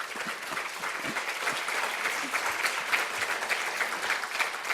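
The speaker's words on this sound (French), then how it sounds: "Vous pouvez les applaudir." At a national conference on ending sexual violence, the audience applauds two invited guests, a full room of clapping that holds steady for about five seconds with slight swells, and nobody speaks over it.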